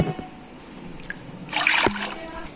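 Three and a half cups of water are poured into a bowl in a short splashing burst for sorghum porridge, with a quiet background before and a faint clink after.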